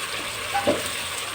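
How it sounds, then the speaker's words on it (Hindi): Spices and tomato fry in a pan with a steady, faint sizzling hiss, and a short stirring clatter comes through midway. "जो मसाले मैंने डाले हैं इसको अच्छी तरह हम भूनेंगे इंशाल्लाह"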